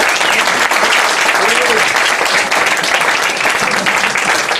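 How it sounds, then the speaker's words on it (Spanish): A church congregation gives a loud applause to Jesus during a Bible study service, a dense continuous wash of clapping from a large crowd, with voices faintly mixed in. "Un aplauso fuerte a Jesús."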